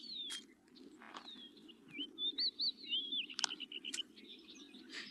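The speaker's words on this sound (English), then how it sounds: "This is a grackle, perhaps one of the mob that pursues his parents." A grackle gives squeaky, whistling calls and sharp chirps, several rapid notes in a row over a low steady hum of outdoor background.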